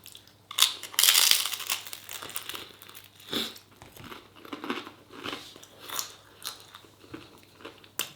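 Close-up chewing and crunching while someone eats a spicy beef steak ragu made with Scotch bonnet and ghost chilli, with irregular moist bites and crinkly crunches over several seconds and no talk.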